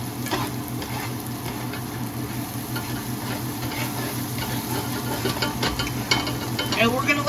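Food sizzles gently in a pan with mustard while a utensil stirs and scrapes it around, making soft irregular clicks over a continuous frying hiss at moderate distance.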